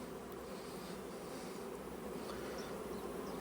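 Honeybees hum steadily at an opened hive beside a rapeseed field, a dense, continuous buzzing swarm close to the listener with no voices over it.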